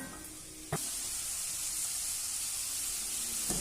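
Onions sautéing in a pan for stuffed egg bonda give a steady, close sizzling hiss that holds evenly throughout, broken by two brief clinks of a utensil.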